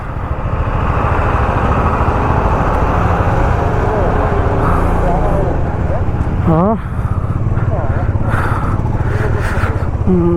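A heavy lorry labours along a rough mountain road at Khardung La pass in Ladakh, past a cleared landslide, its engine a steady loud drone throughout with a brief horn-like chirp midway and wind noise.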